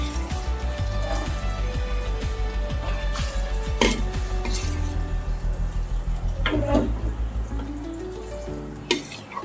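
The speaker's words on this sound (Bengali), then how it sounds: "সমস্ত কিছু আমি মিশিয়ে নিচ্ছি।" Fried rice with mixed ingredients is tossed and mixed in a pan. Repeated rhythmic spatula scrapes and a few clinks of metal sound over a soft sizzle and a faint tonal background.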